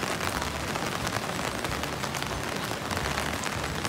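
Steady rain falls on a quiet street in Kobe, a dense, even hiss with no voices or distinct events over it.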